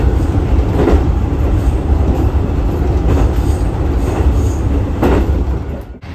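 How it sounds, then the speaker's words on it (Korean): A train departing a small-town station in Japan, a loud close rumble of wheels and carriages with rhythmic clacks and a brief squeal, steady throughout before cutting off at the end. "떠나간다 기차"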